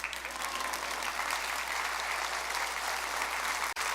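Steady applause from a church congregation during a sermon, continuous and fairly even throughout, with a brief dropout near the end.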